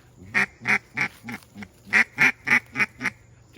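A hand-blown duck call sounds a quick series of about ten loud, nasal quacks, grouped in two runs with a short gap between them, close and clear against a quiet background.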